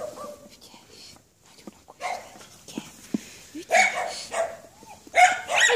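A young dog gives a few short, sharp barks and yips near a person, mixed with whispered, soft talk and quiet handling noises.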